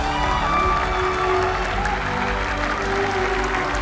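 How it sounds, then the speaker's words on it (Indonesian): Audience applause for Cassidy Bulan Lee at an Indonesia's Got Talent performance, a steady, dense clapping that runs the whole time with a faint crowd murmur and tonal sound underneath. "Kita kasih tepuk tangan lagi dong untuk Cassidy Bulan Lee."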